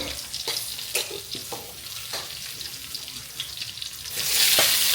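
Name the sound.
dried red chillies frying in oil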